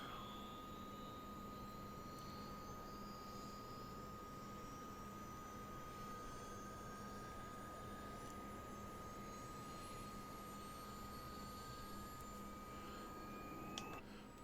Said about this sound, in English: we get those big rotors starting to spin